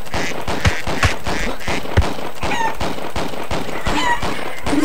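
Cartoonish turkey gobbles warble from the video game Bird Assassin, short rising calls repeated over a busy backdrop of rapid popping shots and steady game noise.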